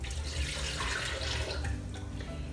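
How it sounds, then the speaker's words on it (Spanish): Water poured steadily into a blender for a green smoothie, a continuous close splashing stream filling the jar without a break and with no talking. "Vamos a colocar el agua."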